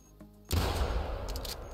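A single rifle shot fired at a sambar deer in The Hunter Classic hunting game cracks out sharply after a quiet pause, then rolls into a long booming echo across open terrain.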